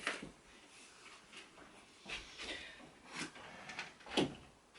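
A drawer in an art space slides open and shut, with several soft scraping and knocking bursts spread across the clip, quiet and close.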